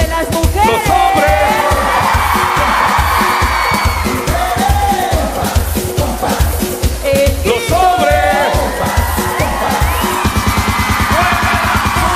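A festival audience at a show in Las Condes cheers and shouts over pounding live music, the crowd noise steady and loud throughout with a driving rhythmic beat underneath.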